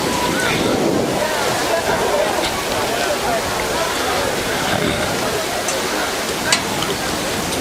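Strong wind buffets the microphone on a cool, blustery August evening at a high school football game, a constant loud roar with gusts throughout.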